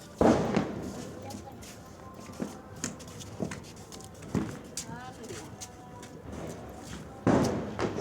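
Ground spinner firecrackers burst during Kali Puja celebrations: a loud crack opens, scattered pops follow, and another sharp burst comes near the end, with voices talking in the background.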